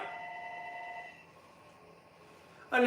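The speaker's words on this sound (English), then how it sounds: "That's just the fax line." A fax line rings in a kitchen with a steady electronic tone that cuts off about a second in, followed by quiet room noise and a sharp knock at the end.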